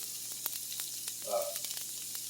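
Onions sizzle steadily as they caramelize in a hot pan for a roasted bell pepper sauce, a constant crackling hiss with scattered pops and a brief louder flare partway through, no voices.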